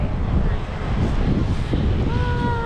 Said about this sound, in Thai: บรรยากาศก็ดีลมพัดนะคะ